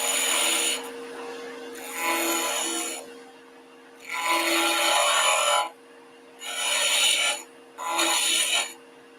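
Tool cuts on a wood lathe running at higher RPM give bursts of raspy scraping over a steady motor hum, five separate passes of a second or two each with quieter pauses between.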